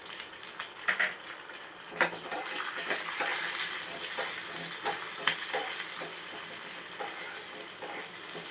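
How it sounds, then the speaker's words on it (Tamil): Shallots and pepper sauté in a pan for a Chennai-style crab gravy, giving a steady close sizzle with occasional stirring scrapes and clinks throughout, no talk. "அது கூடவே இந்த சின்ன வெங்காயத்தையும் சேர்த்து வதக்கிடுங்க."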